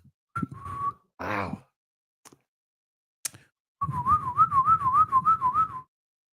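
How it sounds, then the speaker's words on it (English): A person whistles a wavering, warbling tune for a couple of seconds after a brief spoken exclamation and some soft breathy sounds. "you're really getting good at whistling"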